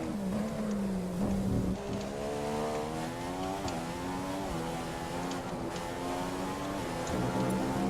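A Formula One race car engine in the F1 2015 video game screams at around 300 km/h, a sustained high whine with gear-shift steps and slight pitch swings, loud and continuous throughout.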